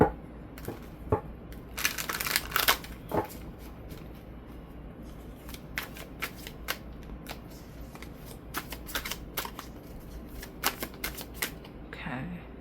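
Tarot cards are shuffled in quick repeated bursts, with crisp riffling and flicking clusters between short pauses, close and fairly loud, with no speech.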